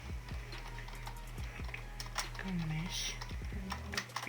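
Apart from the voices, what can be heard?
typing on a computer keyboard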